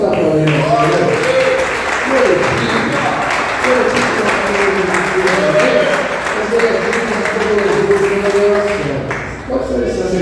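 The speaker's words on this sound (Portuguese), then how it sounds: "Vamos aplaudir o Senhor." A church congregation claps steadily and loudly while voices shout and call out over the applause throughout.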